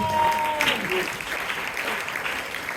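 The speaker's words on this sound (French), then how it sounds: "Acclamez le Seigneur" A church congregation applauds with a steady, broad clatter of clapping that holds throughout at moderate volume, and a voice speaks faintly underneath.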